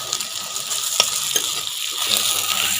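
Garlic fries in a pan with a loud, continuous hissing sizzle, punctuated by a few sharp utensil clinks and stirring scrapes, close up and with no talking.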